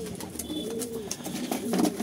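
A pet pigeon squabbles nearby, giving low, throaty coos and guttural grunts that swell slightly louder toward the end, with a faint rustle beneath.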